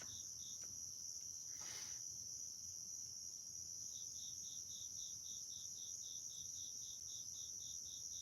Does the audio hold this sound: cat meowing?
no